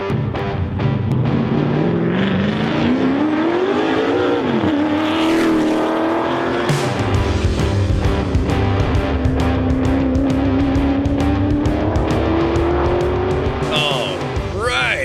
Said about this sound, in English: But that was a Pikes Peak hill climb driver, Ethan Hunter, number 37.